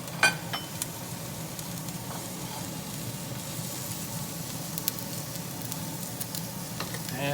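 Celery, carrot and potatoes sizzle steadily in a hot pan for Italian tripe in tomato sauce, a continuous close frying hiss with occasional stirring scrapes and clinks throughout.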